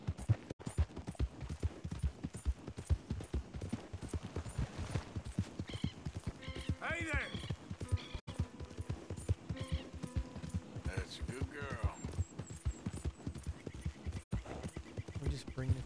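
Horse hooves clip-clop steadily on a trail in the western video game Red Dead Redemption 2, close and rhythmic beneath a game music bed, with game characters talking over them and a whinny.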